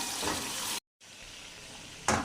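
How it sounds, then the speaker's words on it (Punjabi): Tomatoes fry in a pan with a steady, bright sizzle. The sound cuts out briefly, resumes more softly, then swells again in a short louder burst near the end. "ਟਮਾਟਰ ਵੀ ਸਾਡੇ ਫਰਾਈ ਹੋ ਗਏ"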